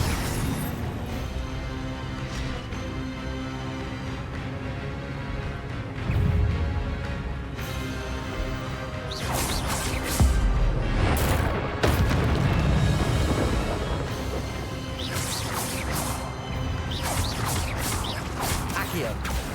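Incendio fire spell cast in Hogwarts Legacy, erupting in booming, crackling bursts over a dense bed of game effects and music, with a voice talking throughout.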